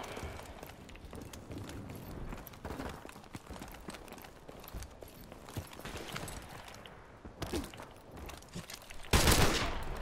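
Gunfire in a video game, rapid bursts and scattered single shots crackling close and far over several seconds, ending in a loud final blast.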